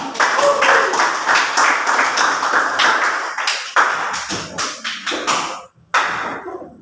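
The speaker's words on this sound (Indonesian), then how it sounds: "Mari kita berikan aplaus." A classroom group claps after a history class presentation, dense overlapping hand claps from several people nearby, loud and steady before thinning into scattered final claps.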